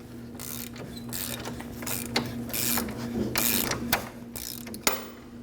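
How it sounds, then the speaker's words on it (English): Ratcheting socket wrench clicking rapidly as an 18mm socket and 19mm wrench loosen a front control arm bolt on a 2011-2016 Kia Optima, repeated close bursts of metallic ratchet clicks with short pauses between strokes. "We're going to use a 19mm wrench on this side and an 18mm socket on the other side."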